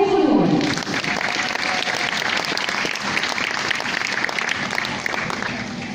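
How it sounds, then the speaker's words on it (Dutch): Loud, dense audience applause at the Dutch junior allround speed skating championship award ceremony, sustained and even for several seconds, with a brief voice at the very start before the clapping takes over. "Uw applaus voor deze dames."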